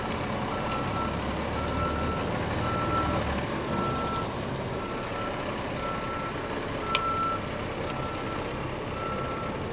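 A truck rolls across a site to dump its load in cold weather, its engine rumbling steadily while a reversing beeper chirps at a regular pace in the middle distance.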